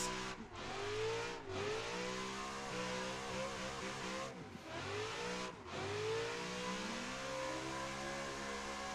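A race car engine in the Assetto Corsa racing game laps a track, revving hard through rising gear pitches with distinct shift drops, sustained and fairly faint throughout.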